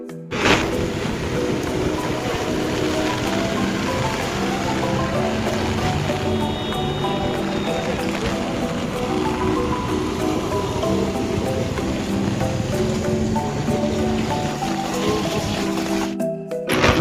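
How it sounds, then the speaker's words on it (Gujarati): Heavy water pours over the overflowing Aji dam in Rajkot after a day of continuous rain, a loud, unbroken roar with no voices. "ખૂબ જ પાણી ચાલુ છે"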